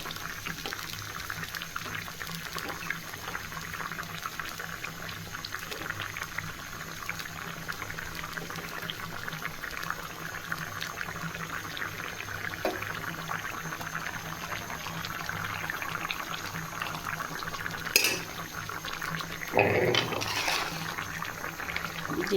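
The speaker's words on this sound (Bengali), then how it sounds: "তরকারি বলক চলে আসছে।" A pot of curry comes to a boil with a low, steady bubbling that runs throughout, close but faint. A brief clatter sounds near the end, and no one speaks.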